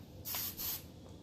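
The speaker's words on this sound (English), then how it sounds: "hairspray your poof so that it doesn't move" Two short bursts of hairspray misted onto hair, quiet close hisses with a brief gap between them and no talking.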